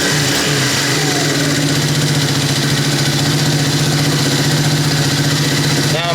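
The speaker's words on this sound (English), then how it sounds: "I'm going to start the bike up and I'm going to let the oil cycle through the system" A Suzuki DR200 motorcycle engine after an oil change runs loud and close in a steady idle, its low, even single-cylinder thrum holding throughout before a brief change at the very end.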